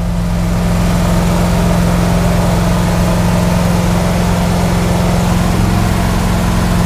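A 1973 International Loadstar truck engine idles after an old cold start, giving a loud, steady, low rumbling drone with an even throb that holds unbroken and close throughout, with no voices.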